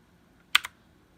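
On a HAVIT KB389L mechanical keyboard with blue switches, two crisp clicky keystrokes land in quick succession, close and sharp, against an otherwise quiet room.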